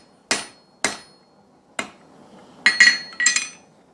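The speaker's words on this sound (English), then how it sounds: "first I'm going to tap this on there, make sure the rivet's set on there, and then go ahead and start setting this rivet" Hammer tapping a rivet into place on knife maker's tongs, three separate sharp metallic taps followed by a quicker cluster of ringing strikes, close and clear with no talk.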